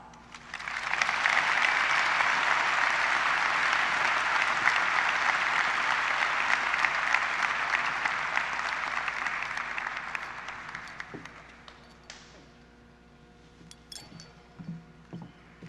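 A big crowd applauds at a high school graduation ceremony, a long, full wash of clapping that holds steady for about ten seconds, then fades out, leaving scattered faint claps and room noise.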